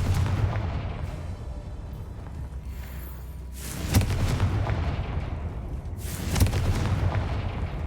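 Bombarda and Confringo spell blasts in a Harry Potter video game: two loud, booming bursts a couple of seconds apart over a steady rumbling game background.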